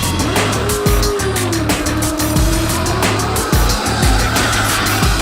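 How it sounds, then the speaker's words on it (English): A Dodge Challenger drift car runs hard on a drift course, its loud engine snarling under sustained, wavering tire squeal, with rhythmic surges and gear changes punctuating the slide. "He's driving the Dodge Challenger, aka fillet steak on wheels."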